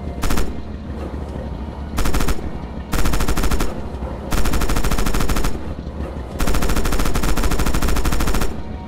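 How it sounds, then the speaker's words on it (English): A tank's coaxial machine gun in Red Orchestra 2 fires five loud, sustained bursts of rapid automatic fire, each lasting about half a second to over a second, with brief pauses between them. "Open fire with the coax MG on those targets."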